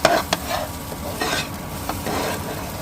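Eggs frying in mustard oil with salt, a steady close sizzle with a few short scraping stirs, no talk.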